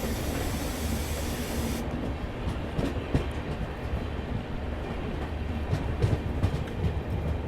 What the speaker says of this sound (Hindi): ट्रैक बदलते हुए फिलहाल हम लोग प्लेटफॉर्म नंबर 1 पे बढ़ रहे हैं।